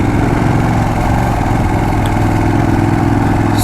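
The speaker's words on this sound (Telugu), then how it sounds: "compare to sports mode race మోడ్లో వేస్తే exhaust note sound engine noise extra ఉంటుంది" A motorcycle engine runs steadily in race mode, its exhaust note producing a loud, close, continuous throbbing drone with no talking.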